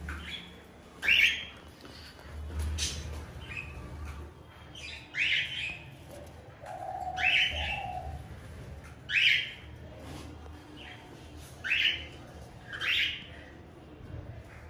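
Cockatiels in breeding condition giving sharp, repeated squawking calls every second or two, close and fairly loud against a quiet background.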